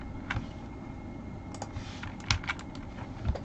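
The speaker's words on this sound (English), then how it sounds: "my keyboard never wants to work" Keys clatter on a computer keyboard during a football management game session, with scattered uneven clicks and a few louder taps over a steady background hum, no talking.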